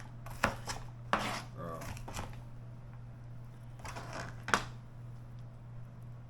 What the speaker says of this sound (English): So I'm cutting up some onions.